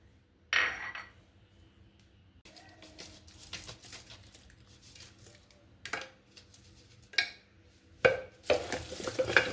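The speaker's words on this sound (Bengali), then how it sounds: "এবার আমি ভালো করে মেখে নিচ্ছি।" Raw chicken being mixed by hand with chili powder, turmeric, meat spice, cherry tomatoes, green chilies and salt in a bowl, giving soft irregular squelching and stirring noises with a few louder clinks and scrapes toward the end.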